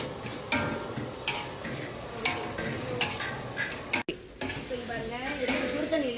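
Chicken pieces being sautéed with salt in a pan for a Malaysian restaurant-style chicken peratal, with steady sizzling, repeated scraping stirs and metal clinks, close up.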